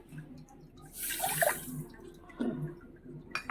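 Water from a cup splashes into a bowl of sugar in a short pour near the middle, followed by a smaller splash, all close by in a quiet kitchen.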